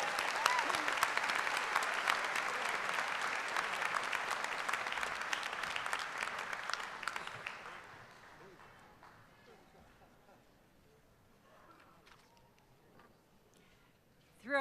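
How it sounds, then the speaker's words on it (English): Applause for nursing graduates at a university spring commencement, a loud crowd clapping for about seven seconds before fading into a quiet hall with faint voices. "A big round of applause for our graduates."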